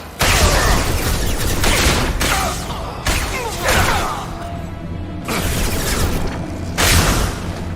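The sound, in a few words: gunfire and explosions in the video game Mass Effect 2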